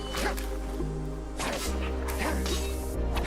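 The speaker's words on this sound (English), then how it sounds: "Wild dogs. We've been waylaid by enemies and must defend ourselves." Wild dogs in the video game Skyrim barking and yipping during an attack, several sharp barks in quick bursts over a droning game soundtrack.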